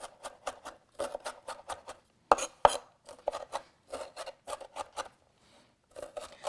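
A knife chopping leeks on a cutting board: quick, crisp cuts in short rhythmic runs with brief pauses, close and fairly quiet, a couple of sharper knocks standing out midway.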